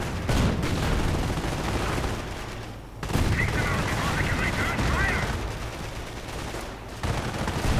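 A World War II strategy video game battle with tanks and infantry, dense overlapping gunfire and booming explosions in rapid bursts, with a commentator talking over the action.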